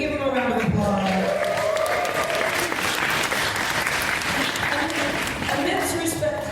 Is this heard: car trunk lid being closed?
no